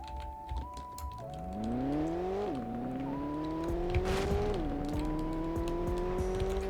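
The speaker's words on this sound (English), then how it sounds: "McLaren. It sounds pretty good." McLaren supercar engine in a Roblox racing game, revving up through rising pitched sweeps with two quick gear-shift drops, a smooth synthetic tone heard up close and alone, with faint clicking underneath.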